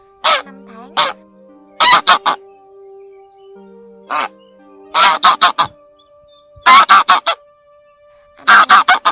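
Wild geese call in repeated bursts of loud, harsh honks, each run of three to five quick calls separated by short gaps, with a steady low tone humming faintly underneath.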